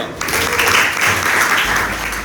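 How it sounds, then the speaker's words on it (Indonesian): A class of students claps together in a classroom, a brief burst of close, busy applause starting suddenly and continuing at an even level. "tepuk tangan untuk 11 MIPA 2"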